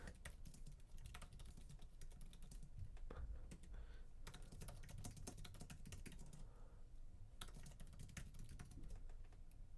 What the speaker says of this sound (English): Let's see if we're gonna be able to hear what I'm typing.